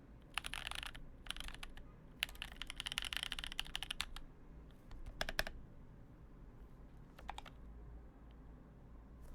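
Fast typing on a Tofu 65 mechanical keyboard with an FR4 plate and lubed Boba U4T tactile switches, clustered clacky keystroke bursts separated by short pauses over a low background hum.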